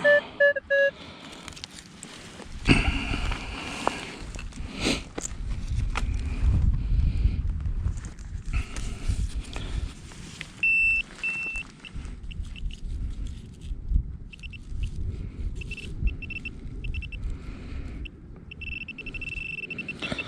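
A Minelab Equinox 800 metal detector sounds a mixed iron-and-lead signal in a ploughed farm field, its thin tonal beeps coming in short bursts over heavy wind buffeting the microphone and rustling ground noise.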